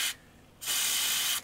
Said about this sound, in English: I'm going to give them a good old squirt